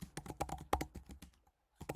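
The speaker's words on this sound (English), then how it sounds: "just start typing" Quick keystrokes on a computer keyboard click in a close, irregular burst, a short pause of silence, then a few more taps.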